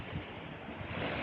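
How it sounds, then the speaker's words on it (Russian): Sea waves wash and roll in a brief burst of broad, rushing surf noise mixed with wind buffeting the microphone, with no voices. "О, какие волны начались."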